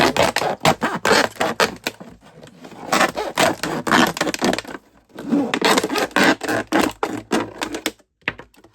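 A knife saws through a plastic container, cutting it in half in two long runs of fast, rough scraping strokes, close and loud, separated by a short pause and ending in a few sparse cuts.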